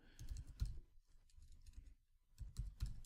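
Faint, quick clicks of fingers typing on a computer keyboard, in short bursts with pauses, soft and close with no talking.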